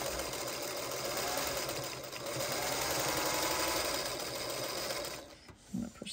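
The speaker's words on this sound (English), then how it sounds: "we're just simply going to sew these two halves together using the quarter inch seam allowance here" A sewing machine stitches two quilt block halves together with a quarter-inch seam, whirring steadily and closely for about five seconds before stopping, followed by a brief handling noise.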